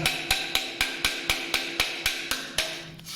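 A hammer chips thick limescale off a bathroom surface in about a dozen sharp, evenly spaced metallic knocks with short ringing tails, close and loud with no voices.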